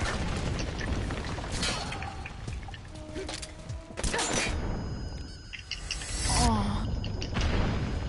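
A stun grenade detonates in the Metal Gear Online 3 video game, a loud boom with a bright burst among dense in-game noise, followed by further bangs later.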